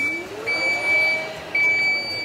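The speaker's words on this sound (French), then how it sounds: "Vous saurez quand le coffre se ferme." A Fiat 600e gives a warning as its power tailgate closes: a steady high electronic tone sounds in long repeated pulses over the low whir of the trunk motor, close and clear.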